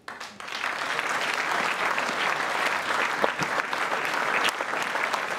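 Sustained applause from the audience at the 80th general assembly of the FNPL, a steady, dense wash of clapping that starts abruptly and holds loud and even throughout.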